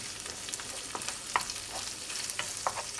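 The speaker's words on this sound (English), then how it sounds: "we want to cook some of the fat out of the bacon and render down the onion a little bit" Bacon and onion sizzle steadily in a pan as they are stirred, with a constant bright frying hiss and scattered soft scrapes and pops, close and alone.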